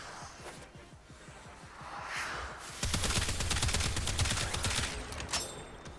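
Astilla Prime shotgun firing in Warframe, a rapid string of punchy blasts that grows denser and louder midway, with whooshing game effects between shots.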